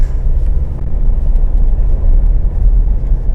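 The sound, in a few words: Mitsubishi ladder-frame SUV engine accelerating on test drive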